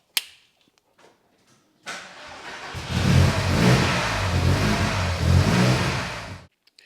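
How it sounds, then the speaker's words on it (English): A VW Golf 2 with a 2.0 16V ABF high-compression engine revs through its exhaust after a few faint clicks, giving a loud, sustained rasping drone with rising and falling blips of throttle, heard alone. "So I don't think the exhaust sounds too bad actually."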